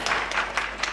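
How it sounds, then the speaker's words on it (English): Audience at a Zee Cine Awards press conference claps in a brief, dense burst of applause, moderately loud and even throughout. "Can we have a round of applause for Bobby?"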